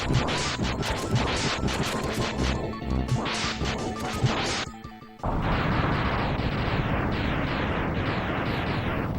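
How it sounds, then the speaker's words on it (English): Homing missile weapon firing in Mega Man X during a boss fight, a series of sharp blasts and crashing impacts over busy game music, loud and continuous, with a brief dip midway before a dense noisy burst resumes. "it is a homing missile and it does decent damage"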